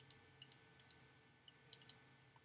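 A computer mouse clicks sharply, near and quiet, in irregular single and paired clicks over a faint room hum, with no voices.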